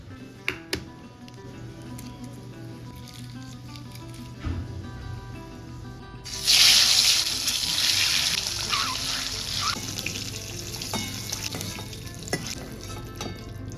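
Potatoes and eggs frying in mustard oil for egg curry, a continuous sizzle that flares louder and hissier about halfway through, with stirring and utensil knocks and no voices.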